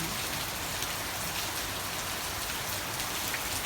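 Steady rain falls on a surface, a dense even hiss of raindrops throughout with no voices.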